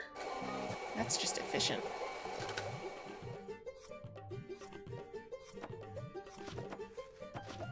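Whirring blender in the cooking video game Venba, a mechanical grinding hum with a looping rhythmic pattern, heard under a speaking voice and background game music.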